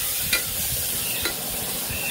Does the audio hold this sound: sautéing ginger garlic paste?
yes